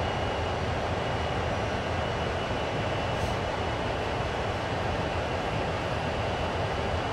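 A CSX heavy haul freight train rolls in the Train Sim World video game, set in ice and snow, a steady loud broadband rumble and roar with no breaks.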